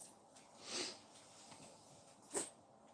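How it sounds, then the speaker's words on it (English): A dog gives two small, faint sneezes about a second and a half apart in a quiet room, short soft bursts over low background hush. "just little sneezes"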